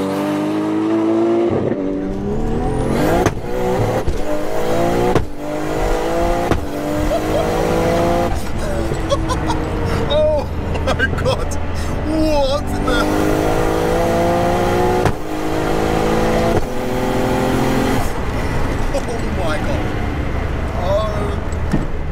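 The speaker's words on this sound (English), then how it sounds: "The turbo sound, like, this is going to be crazy." A 955bhp Nissan R33 GTR with a sequential gearbox and turbo revs hard in repeated loud bursts, with rising and falling engine pitch, sharp throttle blips and crackles from an ignition cut, close and continuous, with people talking now and then underneath.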